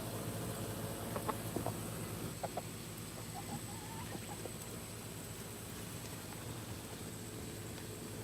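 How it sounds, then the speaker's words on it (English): Backyard chickens cluck and peck in a steady low murmur, with a few brief louder clucks near the start over a constant hum of insects and ambient noise. "These chickens are something else."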